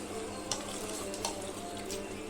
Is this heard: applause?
no